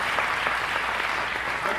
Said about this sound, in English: So let's give each other a round of applause.